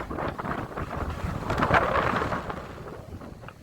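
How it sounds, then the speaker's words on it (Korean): Sea waves crash against the shore of an island coast, a loud rushing roar that swells and surges, heavily buffeted by wind noise, with no voices. "파도가 치기 때문에 제 얼굴에 바닷물이 지금 빗방울처럼 이렇게 쏟아지고 있습니다"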